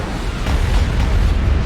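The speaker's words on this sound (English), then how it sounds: "Bombardment incoming." Bombardment explosions in the strategy game Star Wars: Empire at War, a continuous loud, rumbling roar of blasts with no pauses, dense and booming throughout.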